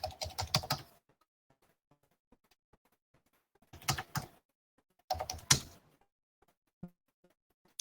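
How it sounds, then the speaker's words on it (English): Computer keyboard typing while logging in with a username and password: three separate bursts of rapid key clicks with quiet pauses between them, close and fairly soft, with no voices. "log in with your username and password."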